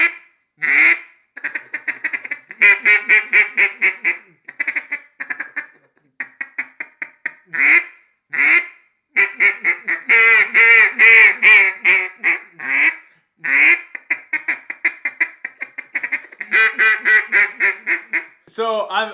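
A Deadly Double duck call is blown in long runs of rapid, loud quacks, with bursts of chattering feed calls and brief pauses between sequences, close and dominant throughout.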